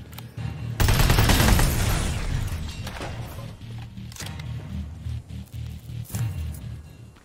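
An assault rifle firing in the shooter Terminator: Resistance opens with a loud, sharp burst, followed by scattered single shots and echoing reports at a steady, moderate level.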